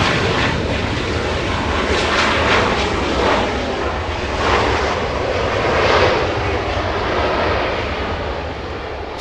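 Boeing 747 airliner engines at Los Angeles International Airport, a loud continuous broadband roar with slow swells in intensity, heard from outside without voices.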